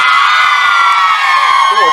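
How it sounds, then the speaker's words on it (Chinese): Concert crowd at an outdoor Taiwanese-language classic song show in Linkou, New Taipei, screaming and cheering loudly and continuously, a dense sustained roar of shrill voices and whoops filling the whole moment. "尖叫声可以再大声一点吗？"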